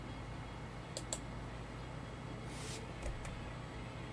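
A computer mouse double-clicks in a quiet room, two sharp faint clicks in quick succession, followed a moment later by a soft brief rustle and another tiny tick.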